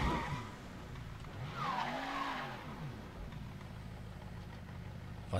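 A car in the video game Mafia III drives with a low engine hum, then its tires squeal in a long, sweeping skid that rises and falls before the engine settles back.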